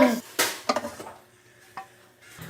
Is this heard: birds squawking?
no